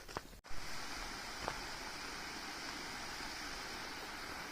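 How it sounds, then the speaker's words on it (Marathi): A waterfall beside a rough dirt road on the Narmada parikrama pilgrimage route gives a steady, full rushing roar throughout, with a brief knock near the start. "धबधबा आहे"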